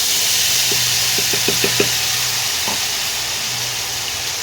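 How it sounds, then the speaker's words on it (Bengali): Spice paste added a little at a time to hot oil for a potato curry, with a loud continuous close sizzle and hiss, broken by a short run of soft knocks as it goes in. "যে মশলাটা আমি তৈরি করে রেখেছিলাম সেই মশলাটা এবারে আস্তে আস্তে দিয়ে দেবো"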